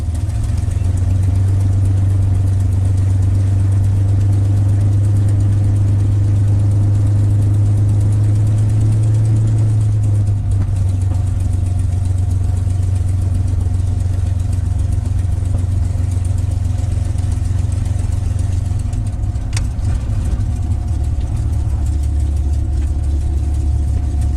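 A P-51 Mustang's piston aircraft engine idles on the ground, a loud, steady deep drone that shifts slightly in pitch partway through and holds for the whole stretch.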